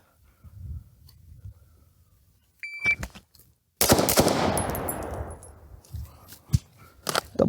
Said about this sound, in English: we're going to be shooting 2 into the center target